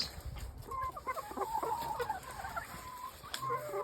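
Chickens in a small poultry farm cluck and murmur in a busy flock, with several birds close by and repeated short calls over a low background rustle.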